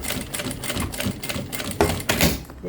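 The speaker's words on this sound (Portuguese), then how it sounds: "a gente passa uma costura onde a gente marcou o meio" Sewing machine stitching a seam on fabric for a thread-holder pouch, running in quick rattling bursts with brief pauses and a couple of louder thumps, close and steady.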